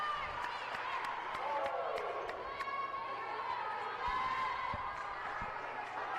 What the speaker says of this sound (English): Crowd very vocal here tonight, and this is a small gym